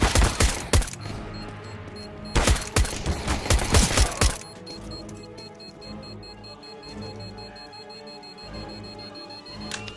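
In a CS:GO professional grand final match, a bomb defuse plays out amid bursts of loud gunfire early on, then a steady ticking and a droning tone while the defuse runs, with no voices.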